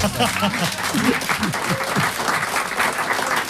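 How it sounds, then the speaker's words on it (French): A studio audience at a French talk show claps steadily, a dense continuous patter of applause with some voices underneath. "applaudissez même, ça fait bien"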